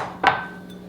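Garlic cloves dropped into a blender jar while making a paste for Burmese khow suey, giving a single sharp knock near the start, followed by a fading ring and a steady low hum.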